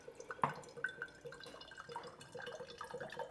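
Coconut water from a coconut pierced with a knife runs into a glass, faint trickling and dripping with a sharp drip early on, close and quiet, no talking.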